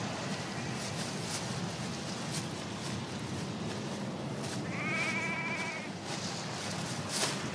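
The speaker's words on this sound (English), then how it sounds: "I can hear the odd sheep baaing." A sheep bleats once, faint and far off, across a steady hiss of wind or rain on an open hillside at night.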